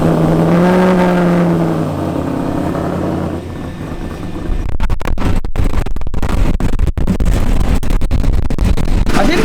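A loud vintage racing car engine at the Phillip Island Classic hums, then revs and rumbles with rough, sputtering bursts, close and steady throughout, no voices.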